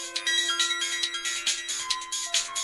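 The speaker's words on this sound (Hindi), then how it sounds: "तभी अचानक भोला के पास रखा फोन बज उठा।" A mobile phone rings in a Hindi 3D horror cartoon, a bright electronic ringtone repeating in steady pulses for a few seconds with no one speaking over it.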